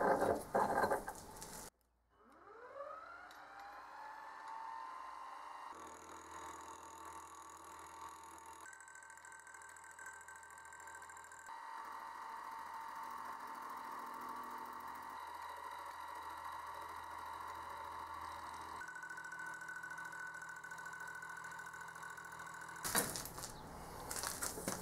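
A milling machine in a home metal shop, running as it cuts metal: a steady whining motor hum that spins up and holds, with shifting tonal steps and a faint cutting chatter, close and continuous with no talk.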